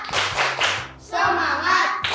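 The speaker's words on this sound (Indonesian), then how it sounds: "Kita mulai tepuk semangat." Children chant the tepuk semangat clapping cheer in unison, with loud rhythmic hand claps mixed into their voices in a short, lively burst.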